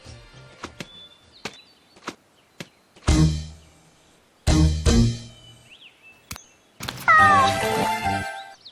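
A cartoon cat gives a drawn-out, wavering meow near the end of a Tamil children's cartoon, following a series of sharp, spaced taps and two heavier chopping thumps.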